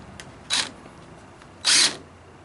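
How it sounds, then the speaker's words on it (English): Two short bursts from an impact gun driving screws into a wooden porch swing, the second one longer, each a close buzzing whir separated by quiet. "You gotta be careful with this impact gun."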